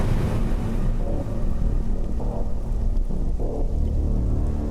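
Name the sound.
rain in rainy season, TV serial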